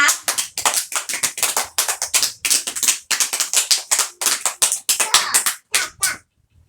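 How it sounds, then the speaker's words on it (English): Children clap their hands in a busy, uneven run of sharp claps that lasts several seconds, close and loud, then stops abruptly. No one speaks over it. "Give Kessan a clap."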